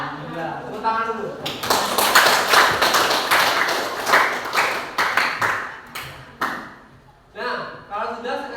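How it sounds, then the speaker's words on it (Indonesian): Students in an Indonesian classroom clap together, a burst of brisk, fairly close applause that swells and fades, with a teacher's speech heard before and after it. "Tepuk tangan dulu."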